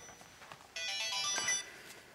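A mobile phone ringtone chimes in a quiet indoor room, a bright melodic burst lasting under a second, with faint background sound before and after.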